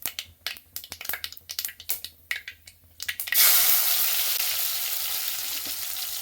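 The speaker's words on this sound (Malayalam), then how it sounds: "വെളിച്ചെണ്ണ ഒഴിച്ചു, കാഞ്ഞു, കടുകിട്ട് പൊട്ടി. ഇനി ഉള്ളി ഇടാൻ പോവുകയാണ്." Sliced onion drops into hot coconut oil where mustard seeds have already popped. First comes a series of sharp, sporadic crackles and pops, then a sudden loud, sustained hiss of sizzling that slowly eases but keeps going close up.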